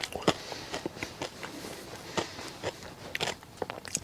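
Crispy bread cooked over a winter campfire being chewed up close, with crunchy bites and crackles in an uneven rhythm, faint and with no voices.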